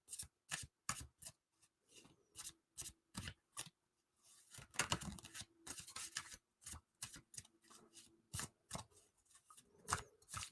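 Playing cards are shuffled in repeated quick bursts, crisp snapping riffles and short rustles coming in an irregular rhythm, close and fairly quiet with pauses between them.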